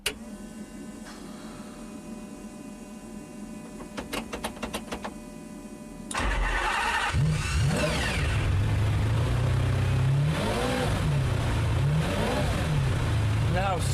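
A stripped race-spec supercar, named as a Ferrari Enzo or McLaren F1, starts after the whine and clicks of fuel pumps priming. It then roars loudly up close and revs repeatedly, rising and falling in sharp surges.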